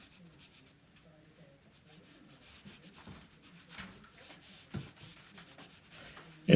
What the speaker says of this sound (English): And then I come back with a damp rag